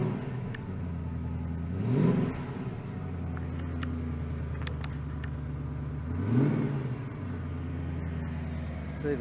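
A Ford AU2 XR8 Tickford ute's V8 idling with a deep, steady rumble, then revving twice in smooth rising-and-falling swells. The sound is moderate in loudness, heard close by outdoors, with no talking.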